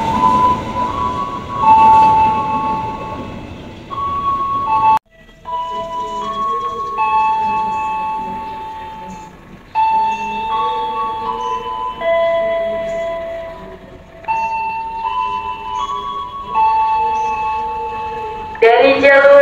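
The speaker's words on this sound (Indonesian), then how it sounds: "Dari jalur 2 dan jalur 3 kereta api melintas langsung." Passenger trains run straight through Tambun station without stopping, giving a loud, sustained rumble with bright ringing tones from horns or crossing bells that rise and fade, broken by short pauses.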